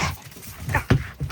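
Max, a pet dog, pants close by in short, quick breaths mixed with soft whimpers, the rhythm broken by a few louder bursts across the brief moment.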